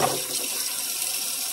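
Water runs into a kitchen sink while dishes are washed with a soapy sponge, a brief steady splashing rush that is close and fairly loud.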